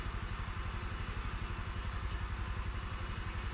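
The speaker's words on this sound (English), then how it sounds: "now it's idling by itself" A cheap, junky Chinese scooter engine idles steadily on its own, a close, even putter with a fast regular pulse and no talk.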